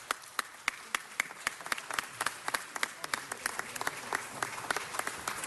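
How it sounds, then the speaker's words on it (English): A crowd applauds at a city council meeting, scattered claps at first building into steady, dense clapping that carries on throughout. "round of applause."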